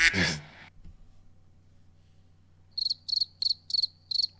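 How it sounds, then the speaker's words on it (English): Crickets chirp in a steady run of short, bright bursts that start partway through, after a brief breathy rush of noise at the very beginning and a quiet pause. "You said the crickets were dead."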